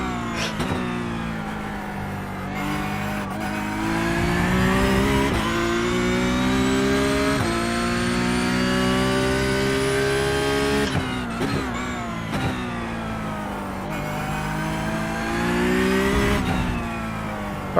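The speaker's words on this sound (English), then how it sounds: "Headphones on, volume up, Porsche 992 GT3 Cup car at Winton." Porsche 992 GT3 Cup car racing at Winton in iRacing, its engine wailing loud and steady through a full lap segment, rising and falling in pitch with shifts and corners, with no talk over it.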